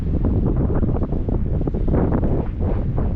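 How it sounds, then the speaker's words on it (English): Outdoor wind buffets a microphone beside open fields, a loud, dense low rumble that gusts unevenly and continuously throughout, with no voice heard over it. "It's getting a bit windy now, so I don't know how well you hear me."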